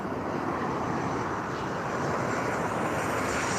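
A Boeing 737 passing near Lisbon, a loud continuous jet engine roar with dense broadband rumble holding steady throughout, no voices over it.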